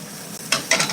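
Frying food sizzles in a pan, a steady hiss that swells in two louder bursts partway through, fairly close.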